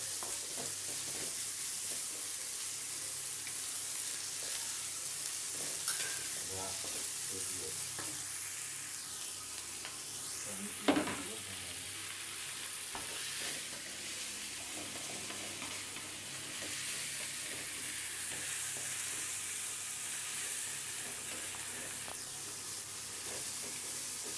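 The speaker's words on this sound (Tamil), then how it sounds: "பொரியல் பாருங்க மக்களே, நல்லா வணக்கிட்டு இருக்கோம்." Blood and egg poriyal stir-fried in a pan gives a soft continuous sizzle with intermittent scraping and stirring strokes and one sharper clack near the middle, fairly quiet and close.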